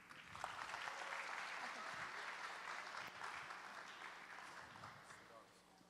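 An audience claps steadily in a hall during a prize presentation for award and title cup winners. The dense applause is faint and distant, fading slightly toward the end, with a few voices mixed in.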